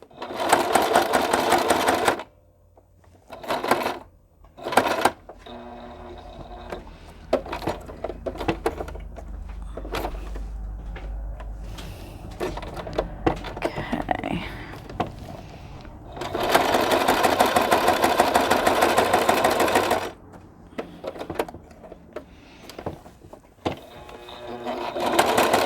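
Sewing machine stitching a card onto a background, running in steady loud motor bursts with pauses between, plus small handling clicks and some quiet background noise.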